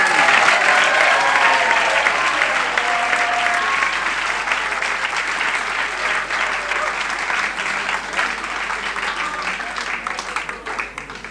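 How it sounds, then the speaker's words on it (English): A 1982 youth song contest audience gives a large, sustained round of applause, a steady roar of clapping that fades slightly near the end. "I'm sure you'd like to have one more large round of applause for all those 13 groups"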